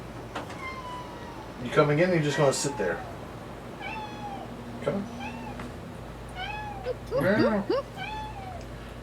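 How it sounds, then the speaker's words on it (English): A cat meows several times indoors, short rising calls spread across the clip, with a person talking to it between the meows. "Noisy ass cat."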